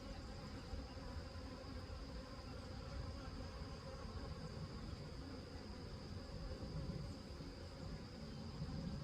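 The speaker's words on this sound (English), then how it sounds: "So all these bees in this box" A dense, steady buzz of many honeybees in a box, continuous and fairly loud throughout with no pauses.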